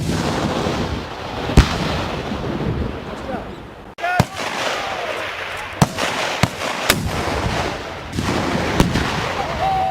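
U.S. Marines fire a shoulder-fired weapon during mechanized assault training outdoors: several sharp, loud bangs spaced irregularly, with people talking throughout.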